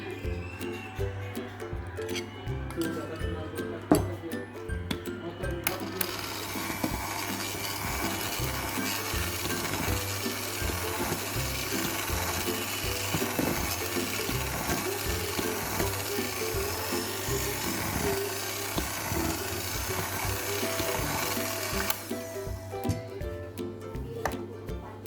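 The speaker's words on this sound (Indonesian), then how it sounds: "Masukkan dan mixer semua tapenya sampai habis." Electric mixer beating fermented cassava into cake batter, a steady, dense whirring drone that holds for about fifteen seconds, framed by quieter clicking and handling at the start and end.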